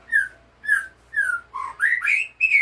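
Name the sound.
murai batu (white-rumped shama) bird singing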